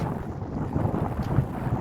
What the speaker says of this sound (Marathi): आणि वारा एवढा सुटलाय ना